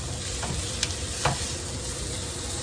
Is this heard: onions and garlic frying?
yes